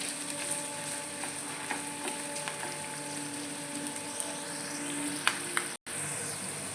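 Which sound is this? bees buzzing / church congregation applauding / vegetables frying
vegetables frying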